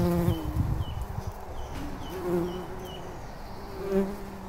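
A honeybee swarm hanging on a tree branch drones in a dense, continuous buzz close by, with individual bees' pitches rising and falling over the steady hum.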